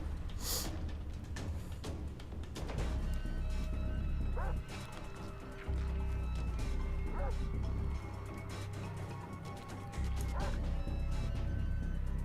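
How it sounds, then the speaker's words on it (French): A dog barks in the Far Cry 3 video game, sharp yips scattered through a steady low rumble of game ambience and music, moderately loud over the background. "J'aimerais tuer le chien là"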